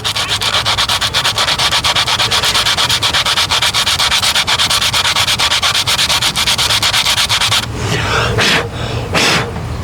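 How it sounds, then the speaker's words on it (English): Rapid, rhythmic rasping of sandpaper rubbed hard against a curb-rashed metal wheel rim, loud and close, followed by a few slower scrapes at the end. "just be careful with your sanding process"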